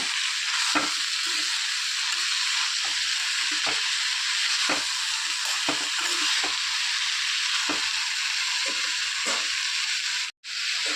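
Pumpkin masala with green chilli being stirred in a pan, a steady close sizzle with repeated scraping strokes of the spoon at irregular intervals throughout.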